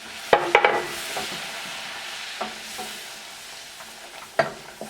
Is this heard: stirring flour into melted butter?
yes